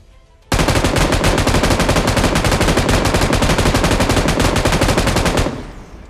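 Loud, close automatic gunfire in a mobile battle game fires one continuous rapid burst of about five seconds at a Strider mecha vehicle, then cuts off, with no voices.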